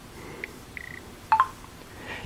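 Dialing tones on a Windows Phone 7.5 during a call: a few short electronic keypad beeps spaced unevenly, close and clear over a quiet hiss.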